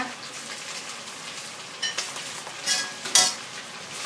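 Utensils scraping and clinking against a hot pan of fried pork with sesame in a few quick strokes, with a faint sizzle underneath and no talking.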